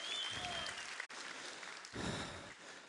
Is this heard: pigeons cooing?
no